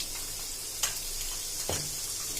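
Onion with a pinch of salt fries in hot oil over low heat for soybean chilli, a constant close sizzle broken by two soft scrapes of a stirring spoon.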